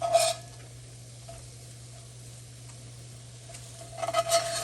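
Biscuits cook in a pan with a steady soft sizzle throughout, bracketed by louder scraping and stirring at the start and end, close and without talk.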